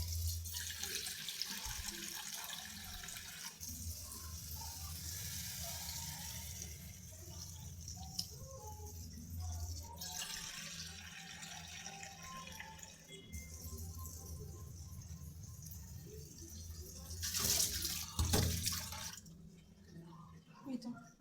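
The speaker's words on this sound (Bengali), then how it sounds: "পানি দিতে হবে।" Water runs steadily into a cooking pot over fried spices, a soft continuous splashing pour with a few brief clinks, and a voice talking faintly in the background.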